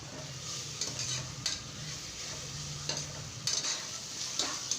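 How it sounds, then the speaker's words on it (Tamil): Ginger garlic paste sautéing in a pan for mutton biryani gives a steady close sizzle, broken by occasional spatula scrapes and stirring knocks, with no voices. "அதையும் போட்டு நல்லா வதக்கி விடணும்"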